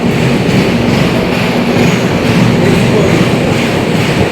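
A train rolls loudly and steadily past a busy railway station platform, a continuous close rumble of wheels and carriages filling the whole stretch with no break.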